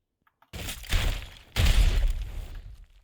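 Twin Burst attack in the video game The Strongest Battlegrounds: two loud, close shattering bursts about a second apart, each a sharp crack trailing off into crumbling debris, with no talk over them.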